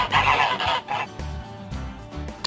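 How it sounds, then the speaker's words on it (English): A goose honks loudly and close in a rapid series of harsh calls, the strongest bursts at the start and quieter honks following, with no talking. "Goose."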